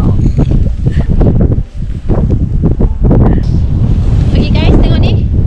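Strong outdoor wind buffets the microphone in loud, continuous gusts across a snowy setting, with a voice talking under the roar.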